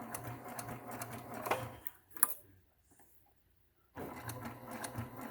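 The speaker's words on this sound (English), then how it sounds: "This is also how you machine sew on quilt binding" A sewing machine stitches binding onto a quilt edge, a close steady mechanical whir that runs for about two seconds, falls silent for a moment, then starts up again.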